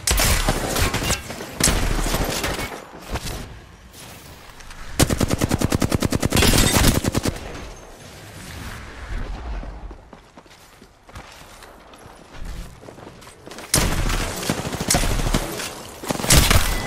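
Video game gunfire in a battle royale match, with rapid automatic bursts and single shots in several loud clusters, up close and separated by quieter gaps.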